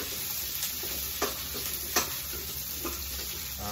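Green pepper sautéing for chopsuey, a continuous soft sizzle with a few light stirring scrapes spaced out over a few seconds, close but moderate in level, with no voices.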